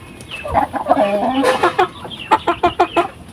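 Several chickens cluck close by, a burst of rising calls followed by a quick series of short rhythmic clucks.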